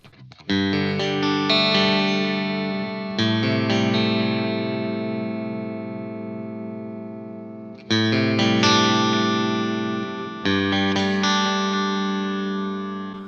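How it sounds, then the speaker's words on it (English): Electric guitar chords played through an ML Sound Lab AMPED amp simulator ring out with a delay effect, sustained notes repeating and fading, several strums spaced apart and loud. "Let's throw some delay on there."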